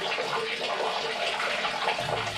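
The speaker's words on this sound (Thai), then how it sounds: "มันก็ต้องมีการลวกด้วยน้ำร้อนๆนะคะ" Hot water is poured over vegetables to blanch them for a Chiang Tung dish, a soft continuous splashing gush, fairly quiet and unbroken for a couple of seconds.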